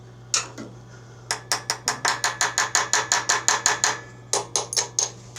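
A quarter-inch drive ratchet clicks through a run of rapid, evenly spaced strokes while working on a Murray snow blower, pausing briefly before a final short burst; close, crisp and loud with no talking.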